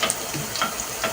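Browned onions sizzling hard in a pan as a garlic, ginger and green chili paste goes in, a dense close crackle with small pops and no voices.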